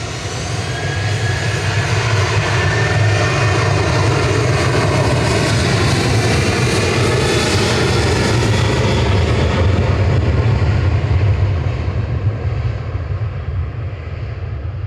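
An airliner departing Manchester Airport, a loud, steady roar of jet engines lasting throughout and fading slightly at the end, without talk.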